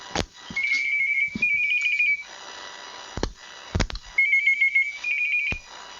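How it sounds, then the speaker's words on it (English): A telephone rings with an incoming call, two bursts of a trilling electronic ringtone separated by a pause, punctuated by sharp clicks and knocks nearby, with no talk. "Oh, we have a phone call."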